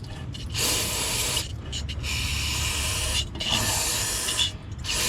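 Compressed air blasts through a new carburetor from a golf cart repower project as it gets a final cleaning, four long hissing bursts close by with short pauses between them.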